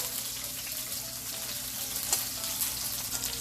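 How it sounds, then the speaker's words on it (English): A pork loin sears in a hot pan, giving a soft, even sizzle that runs continuously and fairly quietly, with a faint tick or two. "we just want to sear this thing very well. We're not cooking it all the way through, we're just searing it."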